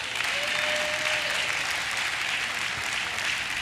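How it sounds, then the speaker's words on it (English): A church congregation claps together in a steady, dense wash of applause that fills the whole moment, evenly loud with no voices standing out. "Now clap."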